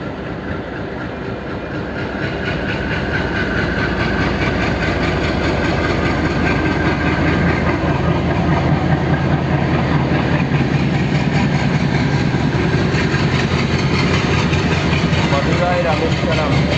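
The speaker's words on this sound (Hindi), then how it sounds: "और लीजिए हम लोग का ट्रेन भी रामनाथपुरम से रवाना हो चुकी है" Boat Mail Express train pulling out of Ramanathapuram, a steady loud rumble of wheels and engine building over the first couple of seconds, then a continuous rolling clatter throughout.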